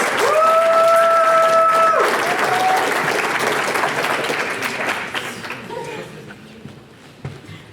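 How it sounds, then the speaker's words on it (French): Applause for a performer at a stage event swells loudly beneath a brief held musical tone, then gradually thins and fades to a few scattered claps and footsteps. "Vous pouvez applaudir Alexandre,"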